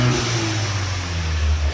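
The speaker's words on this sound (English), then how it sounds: "So let's rev this up." A Ford Bronco engine, warm and fitted with a Mishimoto high-mount intercooler, revs up close and loud, with a steady droning roar.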